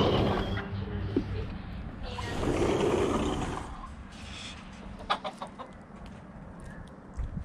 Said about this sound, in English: This is why you don't put the chicken in right away because this one is, is challenging Mr. Brown.